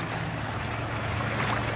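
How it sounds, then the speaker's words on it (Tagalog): A water pump runs steadily in a flooded street in Navotas, a constant mechanical drone and hum with churning water noise throughout, fairly loud and without talk. "Water pump, oh."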